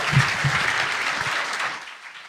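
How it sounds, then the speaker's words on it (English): A closing-ceremony audience at a convention applauds the voice cast, a dense burst of clapping that starts strong and fades out over about two seconds. "Round of applause."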